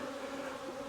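Honey bees hum loudly and continuously during a single brood chamber hive inspection, a close, dense buzzing drone with no voices.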